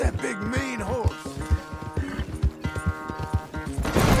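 A horse in Red Dead Redemption 2 gives a whinny among rhythmic hoof clip-clops, heard close over game music in a short burst.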